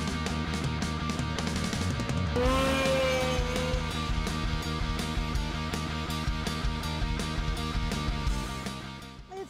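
A machine at the Snow-A-Rama snow drag races in Revelstoke, British Columbia roars loud and close, its engine pitch climbing sharply as it launches, then holding a strained whine before easing off at the end.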